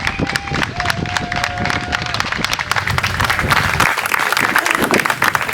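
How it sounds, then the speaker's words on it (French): Wedding guests applaud a newly married couple in a sustained, dense burst of clapping that fills the whole stretch, loud and close, with some crowd noise mixed in. "S'il vous plaît, bonne main d'applaudissements."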